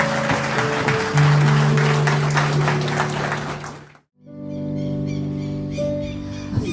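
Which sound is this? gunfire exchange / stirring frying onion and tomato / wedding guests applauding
wedding guests applauding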